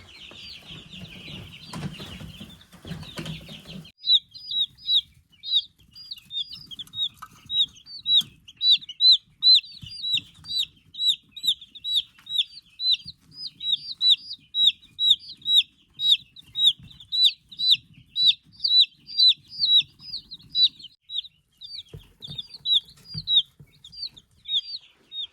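Baby chicks of several breeds in a small flock at an off-grid cabin peep steadily in rapid high chirps, close and clear, after a brief muffled rustle at the start.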